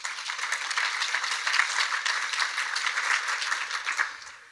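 A conference audience claps steadily for several seconds, a dense, even wash of applause from a large room that fades out at the end.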